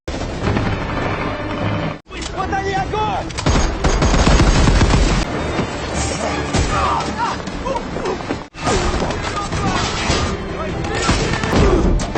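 Bursts of rapid gunfire and heavy impacts in a dense, loud action soundtrack from the film Red Notice (2021), with voices shouting between the volleys and brief cuts of silence.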